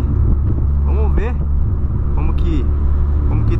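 A lowered Volkswagen Polo Sedan cruises on a highway, a steady loud low rumble of engine and road noise from inside the car, with some squeaks and rattles over it and no talking.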